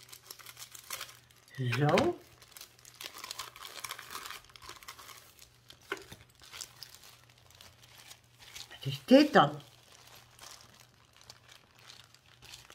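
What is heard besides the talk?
crinkling plastic bags being unpacked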